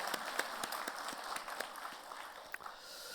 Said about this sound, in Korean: 여러분들이 한번 박수 한번 해주시면 좋겠습니다.